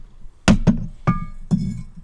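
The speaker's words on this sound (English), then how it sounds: "Now, these are just cumin seeds. So I'm going to put them in a mortar and pestle." Toasted cumin seeds pounded in a mortar and pestle: four loud, close thuds at uneven intervals, each with a short gritty ring, over a quiet background.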